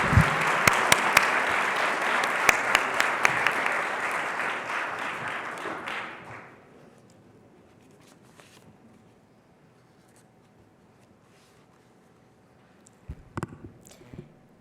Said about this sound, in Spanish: Recibámosla con un muy fuerte aplauso